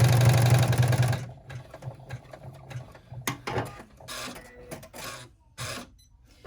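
An embroidery machine stitches a small reinforcing circle around a snap on a mini wallet, a fast loud whirring burst at the start followed by quieter intermittent mechanical clicks and short whirs.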